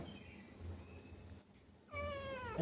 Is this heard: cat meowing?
yes